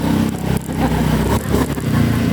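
A motorcycle carrying a heavy load revs loudly up close, its engine surging and dipping in uneven bursts with short drops between pulls, with no talk over it.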